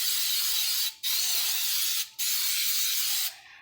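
Coconut oil cooking spray is sprayed onto food before baking. Three close, loud, steady hissing bursts of about a second each come in quick succession, with short pauses between them and no talk.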